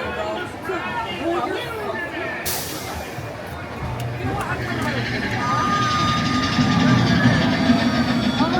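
The Big Thunder Mountain Railroad ride train at Disneyland rattles and clatters steadily along the track, close and continuous, with rider chatter and voices mixed in throughout.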